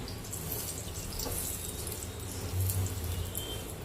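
Coated bottle gourd slices fry in hot oil in a pan, a steady close sizzle and crackle that holds evenly throughout, with no talking.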